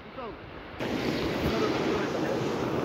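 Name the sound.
river flowing, Burtibang river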